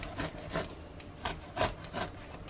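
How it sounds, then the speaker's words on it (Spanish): A kitchen knife scores a whole eggplant into small squares for air-fryer roasting, giving a series of soft, close scraping cuts in an uneven rhythm, with no voices. "Ahora le voy a hacer unos cortes a toda la berenjena"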